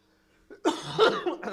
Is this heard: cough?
yes